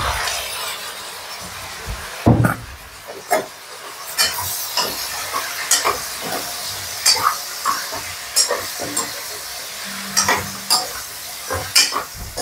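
Boiled pork trotter frying and browning in a pan: a steady soft sizzle with frequent sharp scrapes and clacks of stirring, close and fairly quiet, with no talk.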